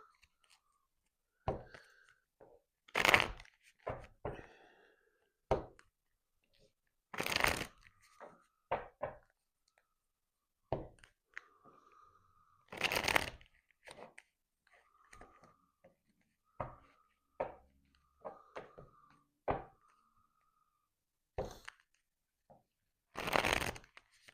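Tarot cards are shuffled in repeated bursts of riffling and soft slapping, close and crisp, separated by quiet gaps and small taps, with no speech over them.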